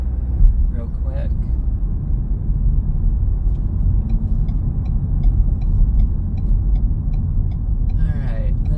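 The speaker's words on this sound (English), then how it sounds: "Let me merge on this highway real quick." A 2018 Lincoln MKZ Hybrid Reserve heard from inside while merging onto a highway: a steady low road and engine rumble fills the cabin throughout, with a few faint higher sounds scattered above it.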